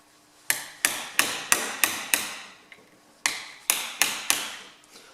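An old chisel struck with a hammer while dismantling a Ferguson TE20 hydraulic lift cover, giving loud, close metallic blows in two quick runs of about six and five, separated by a short pause.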